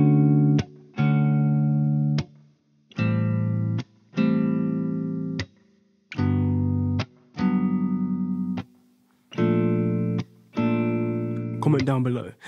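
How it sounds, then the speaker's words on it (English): Clean R&B electric guitar pattern from the Session Guitarist Electric Sunburst Deluxe sample library: short, evenly spaced chord stabs with brief silences between, repeating a steady rhythmic figure alone, no voice. "Here I have an R&B pattern loaded, and you hear this pattern in R&B a lot."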